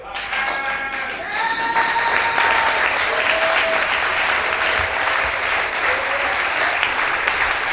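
A church congregation bursts into loud, sustained applause and cheering, dense clapping filling the space for several seconds, with voices calling out over it.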